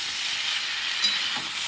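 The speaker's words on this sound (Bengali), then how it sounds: "একটুখানি হলুদটা দিয়ে ভালো করে কষে নেব।" Tangra fish curry cooking with turmeric, salt and green chilli, a soft, even frying hiss with faint stirring; no talk.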